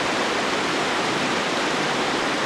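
Water pours steadily out from beneath a rock, a loud, continuous rushing splash with no pauses and no voices over it.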